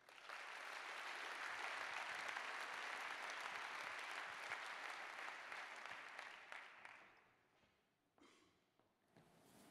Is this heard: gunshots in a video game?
no